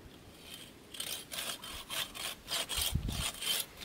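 A tree branch being sawn by hand, with a series of rhythmic rasping strokes, each about half a second long. The strokes are fairly close and moderately loud, with no talking.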